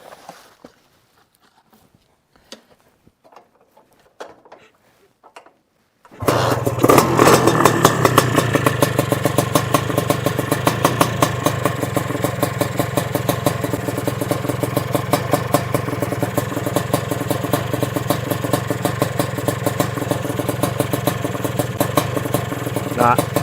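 An engine idles after blowing a seal, with petrol in the oil. Quiet faint knocks give way to a loud, steady idle that sets in abruptly and holds without speeding up, with a clattering, uneven pulse.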